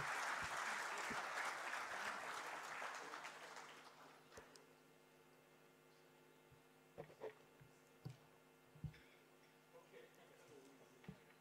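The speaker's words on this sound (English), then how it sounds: "Let's have a huge round of applause one more time" Warm audience applause after a keynote address swells and then fades out over several seconds, leaving a quiet hall with scattered faint clicks and taps.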